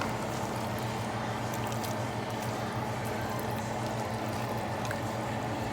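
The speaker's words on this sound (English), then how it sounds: "Let's give it a stir." Seasoned cabbages are stirred in a pot, a continuous close wet squishing and sizzling texture with no pauses.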